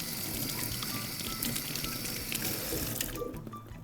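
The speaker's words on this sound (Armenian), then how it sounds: "Մի հատ ձեռքերս լվանամ, իհարկե ABC-ով" Hands being washed under a running kitchen tap with ABC soap, a steady splashing water stream nearby that cuts off near the end, no speech.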